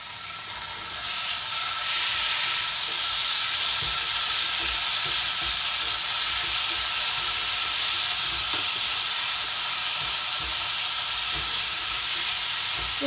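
Tender jackfruit frying with ground spices in a pan, a loud, steady, close sizzle and hiss with faint stirring scrapes, no talking.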